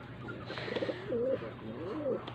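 Pigeons, including newly bought breeder birds, coo softly in their cage in a few rising and falling phrases, close by and fairly quiet.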